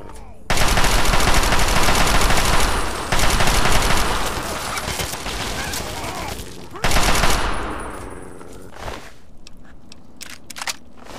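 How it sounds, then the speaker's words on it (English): Heavy automatic gunfire in modded Fallout 3 fires in dense sustained bursts, loud and close, pausing briefly before another long volley, then dying away into scattered shots and quieter game sounds. "This is just unnecessary amounts of gunfire!"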